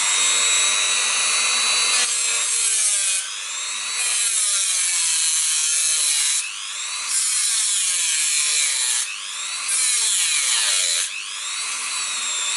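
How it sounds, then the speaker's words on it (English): Dremel rotary tool cutting into a car hand brake cable, a shrill high-pitched whine that rises and falls in pitch across several cutting passes, with short gaps between them. "now I start my Dremel in here, and in here first cut"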